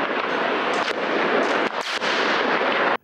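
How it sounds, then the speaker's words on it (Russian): Gunfire aimed at demonstrators during the Maidan protests, heard as a continuous, loud, harsh burst of cracking noise with brief dips, ending abruptly after about three seconds. "Этот выстрел был сделан сзади слева, примерно из района Октябрьского дворца"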